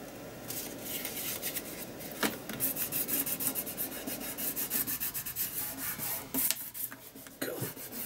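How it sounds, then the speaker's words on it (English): Glued card rubbed down firmly while making a Christmas wreath card, a soft, close scratchy friction with irregular strokes and brief taps, fairly quiet, with no voices. "Just give it a rub."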